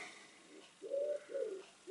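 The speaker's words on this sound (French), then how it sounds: "La tourterelle continue à faire son petit bazar" A turtle dove coos nearby, with three soft, low, rounded calls in quick succession, alone with faint background hiss.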